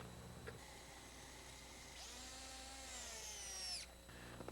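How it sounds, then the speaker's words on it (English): A power drill drives screws to mount a Humidex basement ventilation unit against an exterior stucco wall, one whirring burst of about two seconds that rises in pitch as the screw seats. "And then we put 4 screws to hold it in place."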